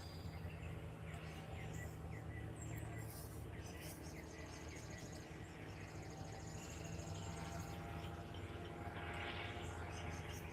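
A small airplane flies overhead on a cool morning outdoors, its faint, steady engine drone lasting throughout against a background of chirring insects.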